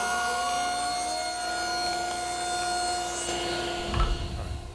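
A saw rasps steadily through wood at close range, with a constant grinding drone and a louder scrape near the end.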